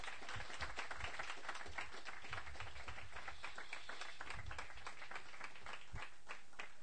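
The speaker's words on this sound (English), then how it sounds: "please do give Tom a big round of applause" Audience round of applause at a WordPress London meetup, many hands clapping in a continuous even patter from start to finish, moderately distant in a room, with no voices on top.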